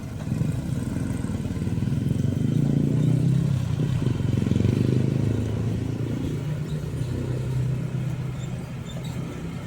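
A motorcycle loaded with water gallon jugs passes by a railway crossing, its engine rumble rising to a peak mid-clip and fading, mixed with steady nearby road traffic noise.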